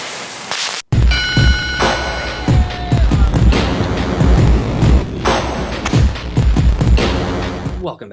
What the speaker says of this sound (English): We're going to light off a bunch of novelty fireworks